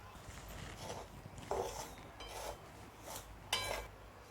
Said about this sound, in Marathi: गरा कढईत टाकल्यापासून 2 मिनटं असंच चांगलं खालवर खालवर भाजून घ्यायचं.